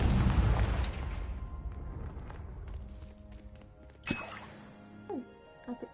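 A Confringo spell explodes in Hogwarts Legacy with a loud blast that rumbles and fades over a few seconds, then a sharp crack and a few lighter pops follow near the end.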